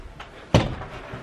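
A single door shut in a home, one sharp, fairly loud thud near the middle of the moment, with quiet room noise before and after.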